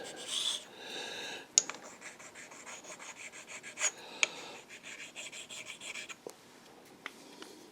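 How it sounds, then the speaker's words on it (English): Small square carborundum stone rubbing burrs off a metal part on a ball turner build, a steady raspy filing scrape with a few sharp clicks and ticks, close and moderately quiet, with no talk. "I'm just using a nice little square carborundum stone here just to clean any burrs"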